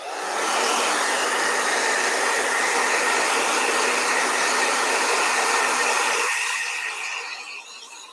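A handheld blow dryer runs steadily while drying a painting, a loud continuous whooshing hum that holds for several seconds, then cuts off and tails away.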